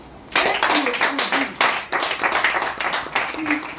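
Clapping breaks out during a presentation of a health product, with separate bursts of hands and a voice talking over and between them.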